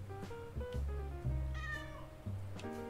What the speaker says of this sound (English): There's Super Cat